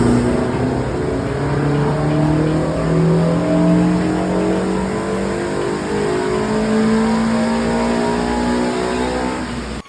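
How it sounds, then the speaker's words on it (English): Modified 1995 Renault 5 Campus running a Renault Clio 172 F4R engine making nearly 200 bhp, revving loudly and close, with repeated rising pitch sweeps over a continuous buzzing engine note. "The heart of this is a 172 Clio F4R running nearly 200 brake."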